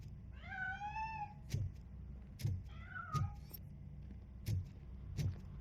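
A cat in the video game Robocop: Rogue City meows twice in rising and falling cries as it escapes, mixed with several heavy, regular footstep-like thumps, with no talking.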